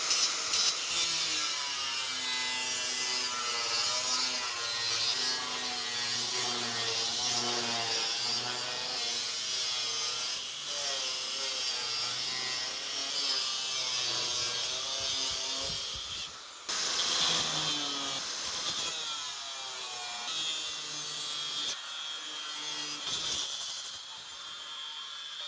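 Thin 2.5mm steel plate being cut into pieces in a workshop, a steady harsh hiss and whine with a sustained metallic rasp lasting most of the time, briefly interrupted near the end before resuming, no talking.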